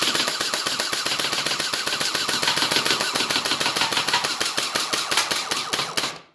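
A Magpul PDR airsoft gun with a gen8 gearbox and drum magazine fires full-auto in a long, steady, rapid burst of loud close mechanical cracks for about six seconds, then stops abruptly.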